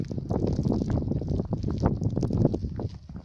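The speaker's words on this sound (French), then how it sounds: "Regardez, regardez ce vent de taré là" Strong polar wind roars steadily during a snowstorm, buffeting the microphone with rough, gusty rumble for the whole stretch, and no one talks.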